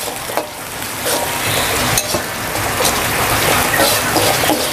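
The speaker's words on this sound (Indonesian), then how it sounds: "Saya tumis dulu bawang bombay, bawang putih." Onion and garlic sauté in a pan, a steady loud sizzle with stirring scrapes throughout, broken by a few sharper knocks of the utensil.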